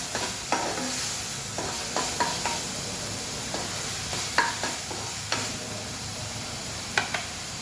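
Onions frying in oil with a spice paste added, stirred by a spoon, with a soft steady sizzle underneath and irregular scraping clicks and taps from the stirring, close and moderately quiet.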